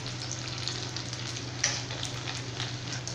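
Aval vadai, flattened rice fritters, frying in hot oil give a steady, close crackling sizzle with small pops throughout and no talking.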